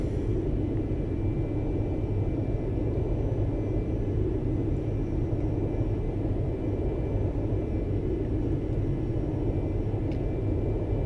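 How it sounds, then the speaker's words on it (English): Carenado Citation II (S550) jet climbing in X-Plane 11, a steady low engine rumble with a faint high whine, droning evenly throughout with no voices. "we're underway and climbing up to flight level 200"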